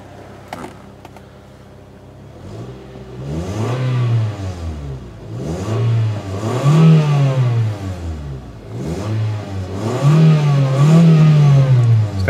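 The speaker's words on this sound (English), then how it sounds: "Let's give her a few revs." A 2001 Acura 1.7 EL engine idles, then revs up several times in long rising and falling surges toward the rev limiter, loud and close, outdoors in light rain, with no talking.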